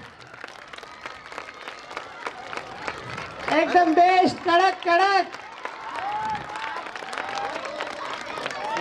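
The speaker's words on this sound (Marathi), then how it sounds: "चला जोरदार टाळ्या होऊ द्या." A crowd claps loudly for small children at a school running-track race, a dense patter of applause continuing while someone speaks excitedly over a loudspeaker.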